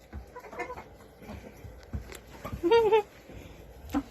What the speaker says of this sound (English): There's a big rooster.